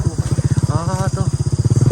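A motorcycle engine revs in a fast, throbbing pulse up close as the rider tries to lift the front wheel, with a voice talking briefly over it.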